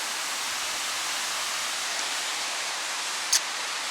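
Steady broadband rush of falling water, continuous and even throughout, like a waterfall heard from nearby.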